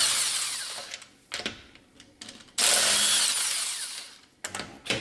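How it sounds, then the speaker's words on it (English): A Milwaukee electric impact wrench removing a wheel from a Mercedes W220 rattles in several short, loud bursts of varying length, separated by quiet gaps. "So I'll take my little impact wrench here,"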